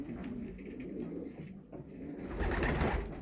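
Homing pigeons coo in a loft in Szczecin-Dąbie, their low, soft coos rolling on close by, with a louder burst of rustling and movement toward the end.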